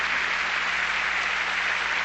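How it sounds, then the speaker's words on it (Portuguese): A church congregation applauding, a dense, even wash of clapping from many hands that holds steady at moderate loudness without individual claps standing out. "Vamos agora aplaudir Jesus"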